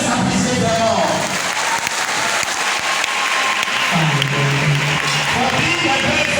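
Audience applause at a school speech and prize giving day as award winners are honoured, a steady, dense clapping crowd filling the whole stretch at close range with some cheering mixed in.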